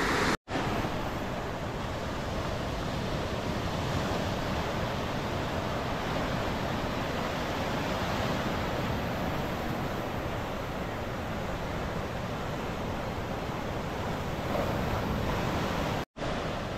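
Sea waves at high tide pound the Gorai shore near rocks during heavy rain, a loud continuous roar of surf close by with wind noise and no voices.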